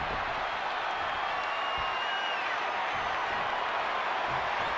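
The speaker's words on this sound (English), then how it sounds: "The WWE Universe is showing their appreciation for the action they're seeing." Steady roaring crowd noise from a wrestling arena in WWE 2K20, a continuous wash of cheering and applause that holds at an even level throughout with no break.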